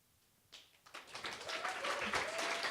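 Applause from a live audience at a spoken-word performance event at the Loft, starting faint and swelling into steady clapping that keeps going over a couple of seconds.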